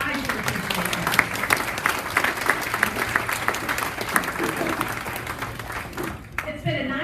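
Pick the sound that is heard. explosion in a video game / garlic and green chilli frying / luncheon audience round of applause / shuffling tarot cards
luncheon audience round of applause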